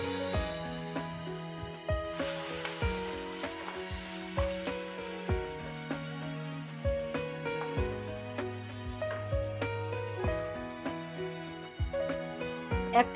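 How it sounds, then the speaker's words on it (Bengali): Chopped onions and potatoes fry together in oil in a wok for mutton fat ghugni, a quiet crackling sizzle with occasional stirring beneath rhythmic background music. "পেঁয়াজগুলোকে আমি একবারে ভেজে নেব।"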